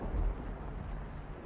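A low rumble of thunder rolls under steady rain in The House in Fata Morgana visual novel, a brief dull boom fading into soft, continuous patter with no voices.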